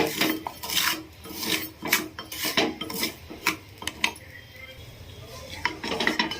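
Sugar being stirred in a pan to caramelize, a spoon scraping and clinking against the metal in quick irregular strokes, close and fairly loud, with a brief voice in the background.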